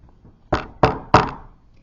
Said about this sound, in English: The Shummus sped down the road to the tailor's door and knocked.